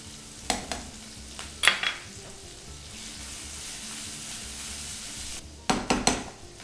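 Ginger and green chilies fry in hot oil for tomato chutney, a steady soft sizzle broken by a few sharp clattering stirs of a spoon against the pan near the start and end.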